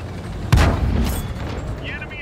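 A tank autoloader cannon fires once in a video game, a single heavy boom with a rolling tail, and the player's voice talks over it.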